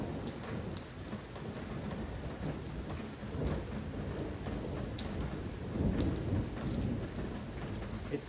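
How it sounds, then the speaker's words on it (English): Steady rain falling outdoors during a thunderstorm, with low rolling thunder swelling under the constant hiss of the downpour, no talking. "It's thundering and lightning."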